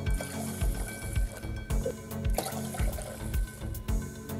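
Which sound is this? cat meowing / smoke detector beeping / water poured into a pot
water poured into a pot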